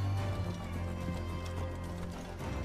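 Horse galloping in the video game Assassin's Creed Origins, a soft rapid hoof patter under a steady droning hum and game music, faint and continuous, without speech.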